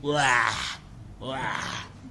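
A human voice imitates a loud, drawn-out yawn twice, each a breathy vocal groan rising and falling, close and fairly loud.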